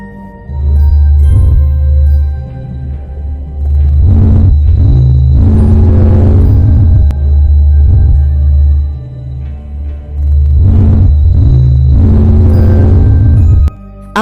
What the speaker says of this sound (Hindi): यह रही सूर्य की आवाज।